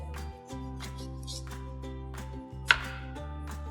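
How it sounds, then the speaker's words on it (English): Potatoes being sliced thin on a board for a beef hotpot, with a steady tonal hum underneath and soft knife strokes, including one crisp louder cut near the end, no speech. "So just nice and thin slices."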